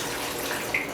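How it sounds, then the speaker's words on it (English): Filtered tap water pours into a container for homemade Korean makgeolli rice wine, a steady hissing splash with a faint higher trickle near the end, close and continuous. "fill some of it with water."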